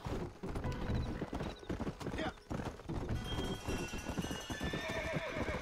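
Horse hooves clop in a steady galloping rhythm in the Red Dead Redemption video game, with a whinnying neigh cutting through near the end, all fairly faint.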